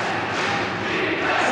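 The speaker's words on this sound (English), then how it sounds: "Crowd chanting defense in Changhua County Stadium" A basketball crowd in Changhua County Stadium chants defense late in a tight Formosa Dreamers versus Hong Kong Eastern game, a loud, dense roar of many voices filling the arena.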